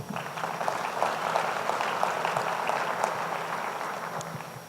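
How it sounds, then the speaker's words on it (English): An audience at a sustainability summit claps for the event's sponsors, a moderate round of crisp, overlapping handclaps that holds steady before tapering off. "We should give them a round of applause as well."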